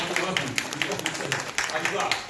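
A church congregation claps along in a steady, quick rhythm, each clap sharp and evenly spaced, with a voice talking over it throughout.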